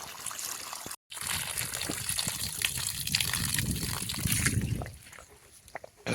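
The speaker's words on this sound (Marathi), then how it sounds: "हे चालू करून दिलं कॉक." Water gushes steadily from an opened tap beside a sheep shed, a continuous close splashing flow that runs for several seconds after a short break, with no talk over it.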